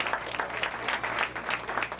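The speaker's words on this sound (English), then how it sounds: "You give yourselves a round of applause." Short burst of audience applause at an evening fundraising lecture, a crowd clapping in an uneven, fairly quiet patter.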